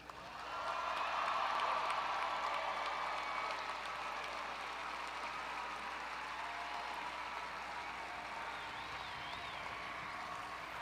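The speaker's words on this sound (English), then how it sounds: "Clap all of the people who made it possible for you to be there" A large commencement crowd in an outdoor stadium applauds, sustained clapping swelling in the first seconds then holding as a broad, somewhat distant wash.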